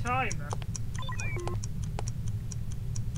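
A mock explosive device in the spy game No-One Lives Forever ticks steadily in crisp, regular clicks over low background hum, while a short voice-like warbling sound and a few chirps overlap at the start.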